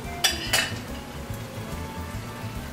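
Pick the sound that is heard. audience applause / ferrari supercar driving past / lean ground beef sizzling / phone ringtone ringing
lean ground beef sizzling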